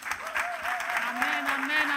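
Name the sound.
church congregation applauding for Jesus Christ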